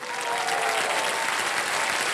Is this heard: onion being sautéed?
no